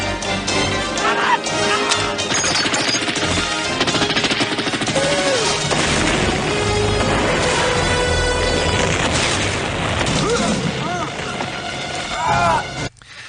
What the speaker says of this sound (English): I love the explosions there, watching those edits.